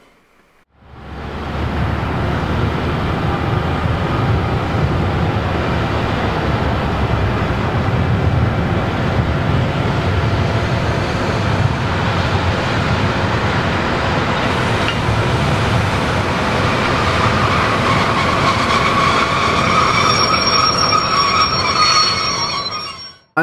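A steam locomotive train rolls into a station with a continuous loud rumble and clatter, wheels squealing high and thin toward the end as it slows.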